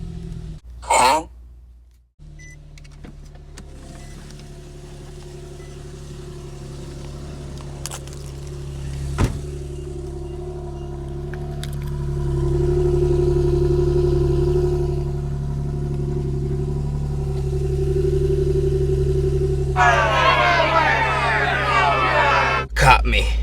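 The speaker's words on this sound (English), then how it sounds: "we're gonna do a little cold start" A Nissan G37's engine fires up from cold on a stock exhaust and settles into a steady, loud low rumble, idling evenly with small shifts in pitch and a brief rev near the end.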